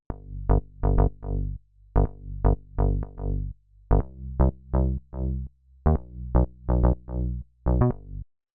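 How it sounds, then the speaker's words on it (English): A synth bass plays short plucked notes in a repeating rhythmic pattern, shifting pitch with a chord progression, alone and fairly loud. "The next sound we have here is this bass"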